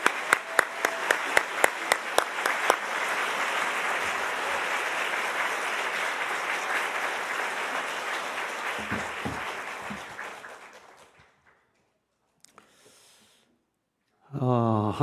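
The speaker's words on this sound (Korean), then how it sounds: "우리 박수로 환영해 주시기 바랍니다" A church congregation at a revival gathering welcomes the guest pastor with loud, steady applause that opens with some rhythmic clapping, holds for about ten seconds, then fades into near silence before other sound resumes.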